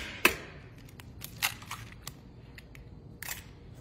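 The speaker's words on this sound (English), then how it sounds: "crack your eggs over the bowl so make sure you get all the juice in there" Three eggs cracked over a mixing bowl while making a family dessert batter: a few sharp, separate clicking cracks spaced out by quiet gaps, close and clear with no talking.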